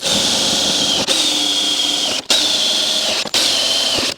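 A power drill drives self-drilling screws into the underbody of an RV while underbody protection is fitted, giving loud close whining runs cut by short breaks between screws, with no speech.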